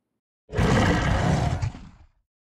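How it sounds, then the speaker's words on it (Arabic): A tiger gives one deep, rough growl that swells suddenly, holds for about a second and a half, then fades into silence. The growl is loud and close, with no voices. "هذا هو صوت هرير النمر"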